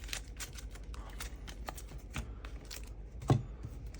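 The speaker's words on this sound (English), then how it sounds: "So we're going to shuffle these together." Quiet riffling and tapping of Marvel Champions cards being shuffled together on a table, a string of soft clicks with one sharper knock near the end.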